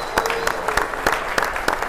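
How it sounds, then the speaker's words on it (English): An audience at a Bronx chamber of commerce event applauds, with loud, close, uneven claps standing out against a steady crowd wash. "They deserve a huge round of applause"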